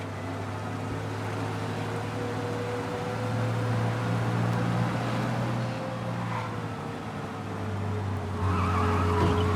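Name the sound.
car driving fast and skidding in Mafia Definitive Edition video game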